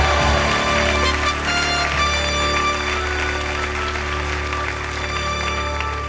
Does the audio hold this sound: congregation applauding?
yes